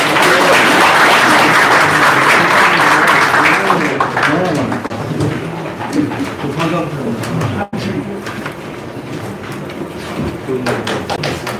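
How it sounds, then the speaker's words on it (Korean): Audience applause welcoming a village head at the launch ceremony of a national coalition opposing the dismantling of the Four Rivers weirs: a dense burst of clapping over the first few seconds, then fading under continuing speech and crowd murmur. "박수 한번 보내주시죠"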